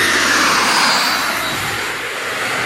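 A jet airliner roars overhead at Gravelly Point beside Reagan airport, a loud, continuous, broadband engine rumble that fills the clip and eases slightly as it passes.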